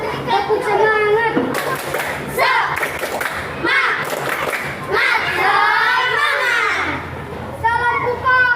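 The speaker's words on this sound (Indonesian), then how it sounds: "mari kita tepuk semangat" A group of schoolchildren performs a rhythmic spirit clap, with sharp claps and thumps landing in patterned beats amid lively chanting and children's voices close by.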